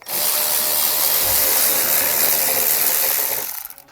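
Rapid clicking of a ratchet loosening the bolts that hold the reservoir on a 2022 Chevrolet Equinox, a steady, loud, close metallic whir lasting several seconds before stopping, with no talking.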